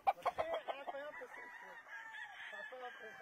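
Chickens on a ranch, a rooster-like burst of loud, choppy clucks and calls up close, then a steadier, fainter stretch of fowl noise.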